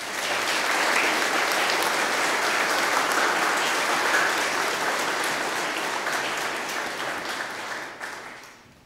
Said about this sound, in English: celebrate his 12 years of priestly service with a round of applause